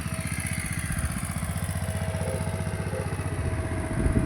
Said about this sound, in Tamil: ரோட்டில் டிராக்டர் போகுது, அதான் உங்களுக்கு இந்த சவுண்டு